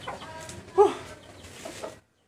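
Chickens at a cousin's backyard poultry pen cluck in a few short bursts, one louder call standing out near the middle, with a faint rural background.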